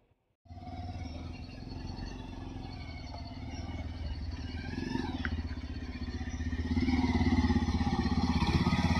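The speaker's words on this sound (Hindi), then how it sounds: "बहुत ही मुश्किल है यहाँ से ये बाइक निकालना, लेकिन कोशिश जारी है और फाइनली बाइक निकल गई है बहुत मशक्क़तों के बाद" A motorcycle struggles out along a rough mountain road on the route to Chopta. Its engine rumbles steadily nearby with rattling clatter and grows louder as it pulls away.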